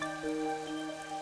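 Rain falls in the video game Master Detective Archives: Rain Code, a soft steady patter on surfaces, faint and continuous beneath sustained background music tones.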